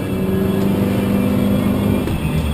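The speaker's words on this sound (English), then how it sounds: "The engine's going to die." A Ford car's engine drones steadily while driving uphill, loud and close, with a slight dip in its hum near the end as it falters.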